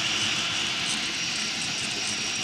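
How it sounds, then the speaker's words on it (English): A 12-volt 5015 blower fan overdriven on 24 volts cools a cross-gantry 3D printer through an eight-outlet duct, giving a steady, close, high-pitched whoosh and whine that holds constant throughout with no talk. "we're using here a 5015 fan that's 12 volts, that's running on 24 volts"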